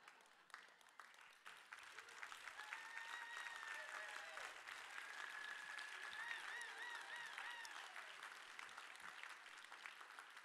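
An audience at a scientific conference award ceremony applauds steadily for several seconds, with whoops and cheers rising over the clapping. The sound is fairly distant and soft.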